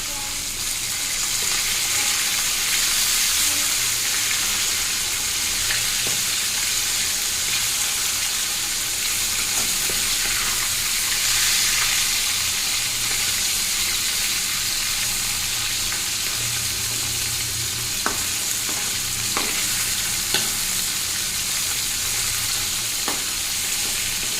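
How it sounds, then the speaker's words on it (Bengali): Fish frying in a large amount of hot oil, giving a loud, unbroken hiss that runs on for many seconds, with occasional faint pops and clicks and no talk. "এই যে মাছ ভাজা হচ্ছে আর এখানে এই মাছগুলো ভেজে রাখছি"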